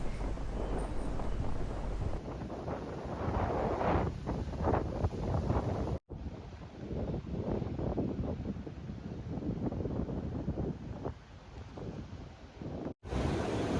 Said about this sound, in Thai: วันที่เราจะไปพรุ่งนี้จะมีพายุค่ะ ลมก็เลยค่อนข้างแรง